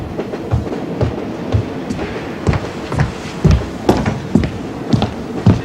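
A train rolls along with steady clickety-clack rhythm from the wheels on rail joints, heard loud and close from inside the carriage, with repeated knocks and rattles.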